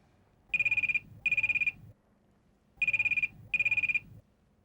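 A landline telephone ringback tone during an outgoing call, sounding in two paired bursts of ringing separated by a pause, fairly quiet and heard alone without talk.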